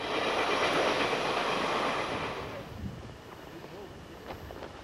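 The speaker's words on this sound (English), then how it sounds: "this time it's a container train, the 21G, which runs from Jersey City to Los Angeles" A Norfolk Southern container train rolls past in a loud, broad rumble of wheels and cars that fades slightly toward the end, with wind buffeting the microphone and some talk beneath.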